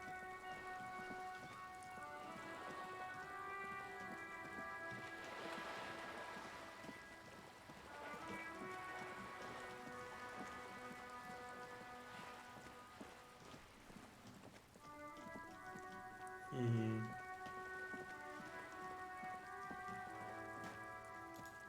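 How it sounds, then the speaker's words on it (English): Steady rain falls in the video game Disco Elysium, a constant hiss that runs alone the whole time under a soft tonal music bed, with one brief thump near the end. "And now it's raining."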